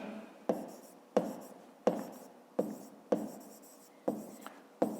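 A pen writes on paper in a maths exercise, a series of about nine sharp scratchy strokes in a steady rhythm, close and quiet with no talk over it.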